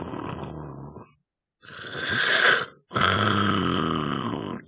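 A voice imitating loud, horrid snoring: two long, rasping, gravelly snores separated by short pauses, close and loud, with no other sound around them.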